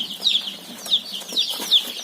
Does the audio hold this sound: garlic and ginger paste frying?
no